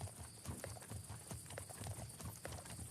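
Horse hooves clip-clop in a steady walking rhythm in the video game Legend of Khiimori, clear and close, with faint background sound underneath.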